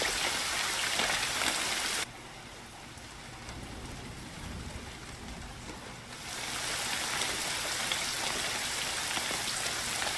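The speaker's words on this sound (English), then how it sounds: "I could live in rain like this for the rest of my life" Steady rain falling, a constant broadband hiss of drops on surfaces that dips quieter for a few seconds in the middle before swelling back to full strength.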